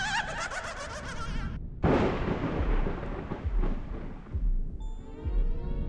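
Gunfire aimed at a gas station in the video game I Have No Mouth, and I Must Scream, a sharp burst and then booming, rumbling blasts that roll and fade, ending in a ringing electronic tone.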